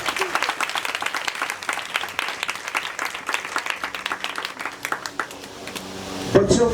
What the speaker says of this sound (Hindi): तो फिर पापरू के लिए जोरदार तालियां बजाएं।